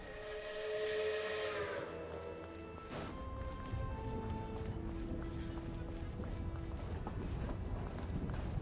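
A train's steam whistle in the Genshin Impact game sounds a long, loud, steady blast lasting a couple of seconds, then gives way to a continuous hiss and rumble as the train runs.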